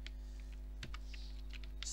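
A few soft, scattered keystrokes on a computer keyboard, faint and close, over a steady low electrical hum.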